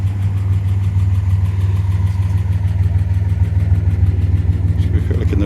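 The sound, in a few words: 1969 MG MGC Roadster engine idling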